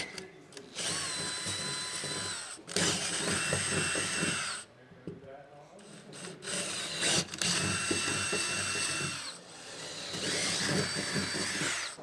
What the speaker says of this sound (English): go ahead and grab your 5/8 drill bit, and we're going to need to enlarge all of the holes